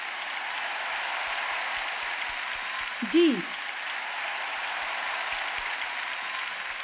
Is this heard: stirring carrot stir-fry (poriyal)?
no